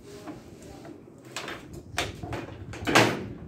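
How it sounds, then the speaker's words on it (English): A door inside a hospital is opened, giving a few quiet clunks and rattles that build to a sharper knock near the end, over a low background hum. "Open the door."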